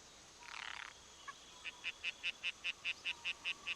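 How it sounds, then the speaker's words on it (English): A tree frog croaks in a steady run of about a dozen evenly spaced, short chirping calls, close and clear over quiet outdoor background, after a brief rasping burst. "his character crushed an innocent, if annoying, tree frog"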